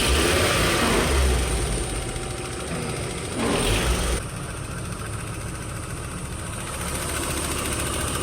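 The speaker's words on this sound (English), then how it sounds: "just going to rev it a little bit." A VW T4 van engine revs, first idling, then rising briefly and falling back to idle, heard close up with a steady background hiss.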